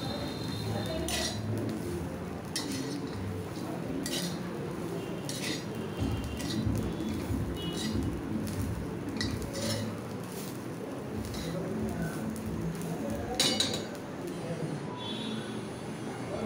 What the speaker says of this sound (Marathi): खोबरं आता चांगलं भाजत आलं आहे